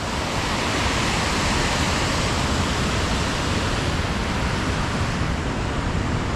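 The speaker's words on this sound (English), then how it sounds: "So you've got all the white froth gets churned up after going over these falls" Water thunders over the falls and churns into white froth below, producing a dense, constant roar at close range that stays loud and unbroken from start to finish, with no voices.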